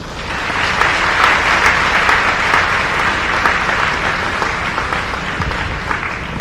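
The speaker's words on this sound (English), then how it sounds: "everybody give him a round of applause" A crowd at a regional high school sports awards event applauds steadily for a state tennis player of the year, dense clapping filling the room at an even level for several seconds.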